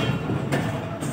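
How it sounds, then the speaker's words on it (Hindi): Train standing at an Indian railway station, a steady broadband rumble with a couple of brief rushing bursts, close and fairly loud, with no talk over it. "ML 939 की ट्रेन खड़ी है"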